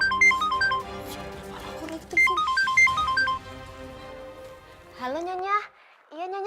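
A telephone ringtone plays a bright, repeating melodic chime indoors in two clear rounds, followed by a voice speaking.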